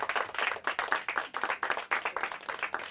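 Scattered clapping for a team at a Hindi quiz show final round: a modest audience claps in distinct, fairly rhythmic bursts, individual hand claps clearly separable, moderately loud with no talking.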